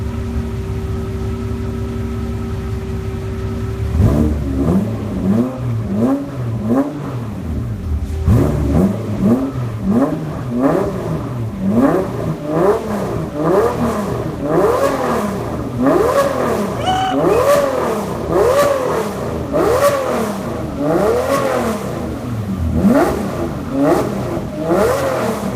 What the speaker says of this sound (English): we're gonna give you a first rev with the new exhaust coming out the center exit.